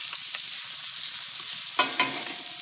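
Onions stir-fry in hot oil with a steady, bright sizzle, and two short stirring scrapes stand out near the end.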